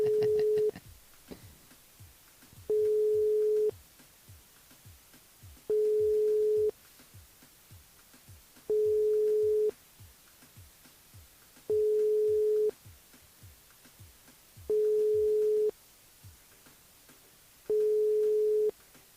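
A telephone busy signal during an unanswered call on a live radio show: seven steady beeps repeat at an even pace, each about a second long with roughly two-second gaps, over faint background hiss and no speech.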